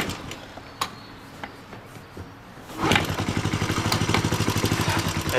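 A carbureted kickstart motorcycle engine on choke gets a few kicks and clunks, then catches and settles into a steady, rapid, close idle putter.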